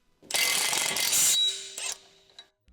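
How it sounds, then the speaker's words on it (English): An electric impact wrench with a 22mm socket buzzes loudly for about a second while removing a tie rod end on a Ford Escape, followed by a shorter second burst and a faint metallic clink, with no talk. "Use a 22mm socket with electric impact wrench together with the knuckle separator tool to remove the tie rod end."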